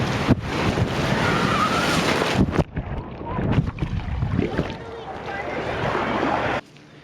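Ocean surf washing and rushing during a field test of a 15 denier nylon dry sack, with steady wave noise and wind buffeting the microphone, a brief drop midway, then continuing until it cuts off near the end.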